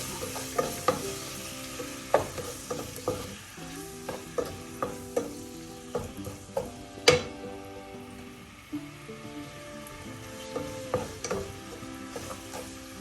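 Tomato, shallots and curry leaves sauté in a pan under a soft sizzle, punctuated by repeated clinks and scrapes of a spoon against the metal, close and irregular.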